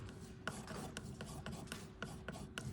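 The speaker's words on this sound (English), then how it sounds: "I'm using this palette knife to mix because I can really scrape everything" Palette knife scraping and mixing orange oil paint on a palette, a steady gritty rasp broken by repeated short strokes roughly every half second, close and continuous with no talking.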